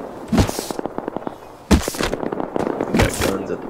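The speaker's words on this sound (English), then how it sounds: "There's a lot of gunshots coming from the excavator pit." Rapid bursts of distant gunfire in the game Rust crackle in quick clusters, with sharp louder shots standing out among the volleys.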